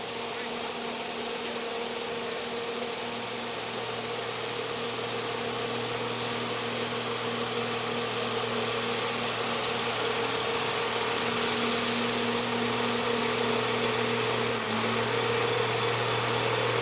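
A pulling tractor's heavy engine roars steadily at a distance for a long stretch at a truck and tractor pull, a constant low drone with faint crowd murmur beneath.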